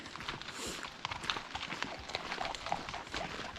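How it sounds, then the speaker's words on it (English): Many hooves clatter at once in a busy, continuous patter as about 20 horses move along a track at a distance, fairly faint. "Must be about 20 horses in front of me."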